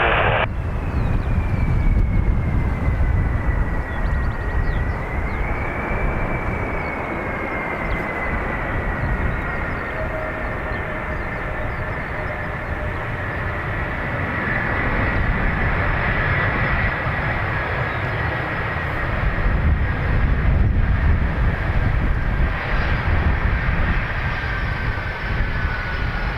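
Delta flight 83, a diverted airliner, taxis at Dublin Airport with a sustained jet engine roar and a slowly gliding whine, loud and steady for the whole stretch with no talk over it.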